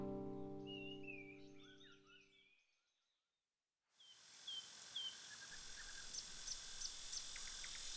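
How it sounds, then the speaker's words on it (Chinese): Cicadas in summer near a mountain courtyard at Wudang, a dense, steady insect drone with high chirping calls; a short silent gap in the middle separates two different stretches. "当知了鼓噪于庭前，夏天携骄阳如约而至"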